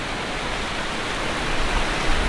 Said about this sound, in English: Yeah, a little flowing water. Yeah, I ain't trying to go all the way up now. All the way over there? Nice, see the little waterfall right there.